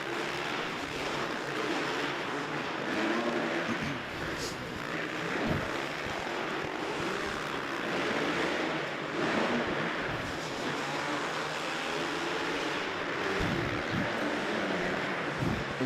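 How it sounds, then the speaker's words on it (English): A two-stroke motocross bike engine revs and screams around an indoor dirt track during a race, a continuous buzzing roar that rises and falls with the throttle as other bikes blend into the din. "Gage Dodd letting that 2-stroke kind of sing around here"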